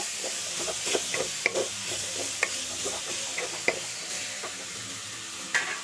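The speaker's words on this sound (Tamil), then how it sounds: "தக்காளி வந்து நல்லா குழஞ்சி மசிவாக வேகணும் அது வரைக்கும் நல்லா அந்த எண்ணெயிலே வதக்கிடுங்க" Tomatoes sautéing in oil for a drumstick-leaf dal sambar hiss and sizzle close by, with frequent scraping stirs and occasional sharp clinks of a spoon against the pan.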